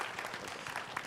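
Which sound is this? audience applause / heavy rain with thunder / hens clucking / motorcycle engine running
audience applause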